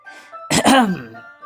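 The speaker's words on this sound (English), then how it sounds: "I clear my throat." A single short throat clearing in a video game, close and distinct, against a quiet background with a faint tone.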